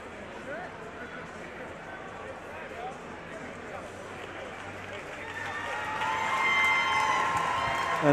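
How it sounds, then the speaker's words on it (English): A crowd around a cage at a mixed martial arts event applauds and cheers a fighter getting back on his feet, a steady roar swelling louder toward the end while commentators talk over it. "the crowd rewarding him for his efforts there"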